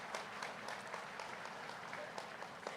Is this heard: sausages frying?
no